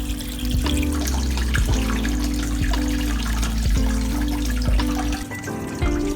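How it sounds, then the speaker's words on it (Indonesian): Water pours steadily into an aquarium being filled for a river-habitat setup, a continuous splashing rush with small bubbling ripples and no pauses. "gue lanjut ngisi akuarium dengan air."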